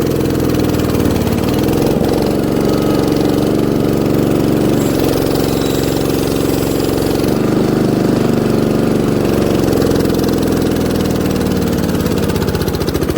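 A 1960s Terra Mite backhoe engine runs loud and steady close by as the machine moves off rough ground, a continuous rough mid-low drone with slight load changes and no talking.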